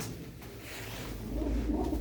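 Chaur Mastpur pigeons kept by a fancier give low, soft cooing that swells in the second half, close by with no one talking.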